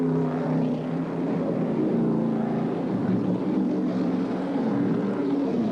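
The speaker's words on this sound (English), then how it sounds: "we have the cars coming out onto the racetrack to warm up those tyres" NASCAR race cars at Calder Thunderdome in 1988 rolling onto the racetrack to warm their tyres, a steady, continuous engine drone heard at a distance with no talking.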